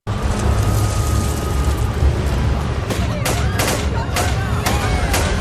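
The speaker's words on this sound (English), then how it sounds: "when they enter the village, they start shooting to create fear" Loud, chaotic bursts of gunfire in a village, several sharp cracks in quick succession over a dense rumbling din, with voices shouting underneath.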